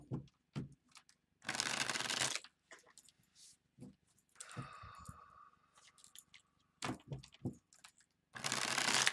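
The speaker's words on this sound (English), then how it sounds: "Let's pull some cards for you from my other tarot deck in regards to your moon reading." Tarot card deck being shuffled by hand, several bursts of crisp riffling and soft card taps and slides, close and quiet with gaps in between.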